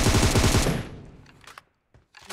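M4 rifle and shotgun fire in a shooter video game: a loud, rapid automatic burst that cuts off, followed by a few scattered, fainter single shots.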